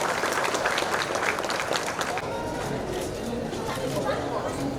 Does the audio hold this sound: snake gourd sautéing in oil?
no